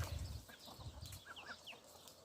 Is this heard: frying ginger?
no